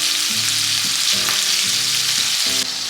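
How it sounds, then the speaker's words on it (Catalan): Prawns sizzle and spatter in a hot pan as they are turned over, a steady loud frying hiss with soft clicks of stirring and no voices. "Aquí fregirem ara les gambes, tom i tom"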